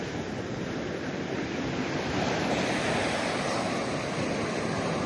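Ocean surf rolls steadily onto a South Florida beach, a loud continuous wash of breaking waves with wind buffeting the microphone and no voices.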